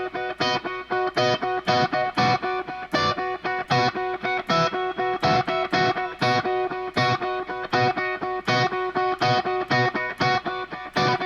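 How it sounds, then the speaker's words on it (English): Distorted electric guitar chords played as a repeated rhythmic chord riff with short gaps between strums, loud and alone without talk. "I'm lightly playing all those strings together"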